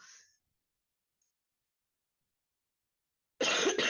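A brief faint sound at the start, then silence, followed by a loud, close cough that comes in two quick bursts.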